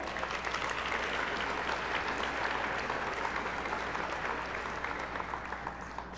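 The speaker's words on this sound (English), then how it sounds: "Let's have a big round of applause for our sponsor" Audience applause at the opening ceremony of the WCG 2005 USA National Championship gaming event, a dense, steady roar of many hands clapping that holds loud and continuous throughout, honoring sponsor Intel.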